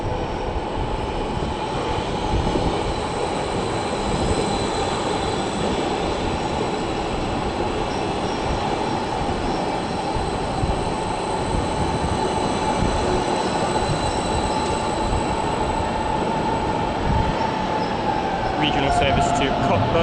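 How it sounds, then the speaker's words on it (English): A Stadler Kiss regional train, operated by Odeg for a Cottbus service, rolls into Berlin Hauptbahnhof with a steady loud rumble of wheels and motors throughout, a faint squeal near the end, and some talk underneath. "here's an arriving train which will then form a service to Cottbus"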